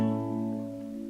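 Major chord ringing on an acoustic guitar, a single sustained strum with several steady overtones slowly decaying, close and clear with no talking.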